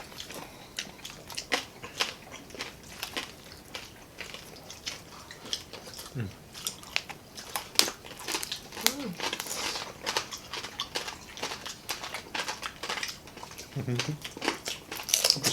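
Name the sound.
chewing crispy roast pork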